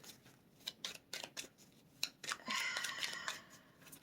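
A deck of tarot-style cards is shuffled in a quiet room, a series of soft riffling bursts and snaps building into a longer flutter near the end.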